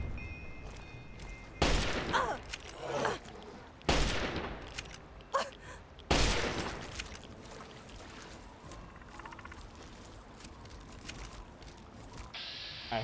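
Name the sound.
gunfire in video game Fallout 3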